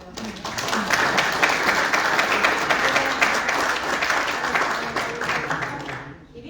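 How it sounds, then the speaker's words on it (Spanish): An audience at a talk on the American independence movements bursts into applause, a dense, sustained clapping for about six seconds before quickly dying away. "Primero, aplausos a"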